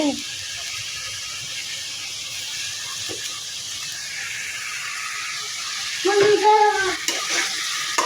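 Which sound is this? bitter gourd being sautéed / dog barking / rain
bitter gourd being sautéed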